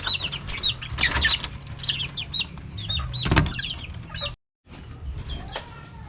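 Chickens in their new cage cluck repeatedly in short, close bursts, with a flurry of wing flapping and a brief drop to silence near the end.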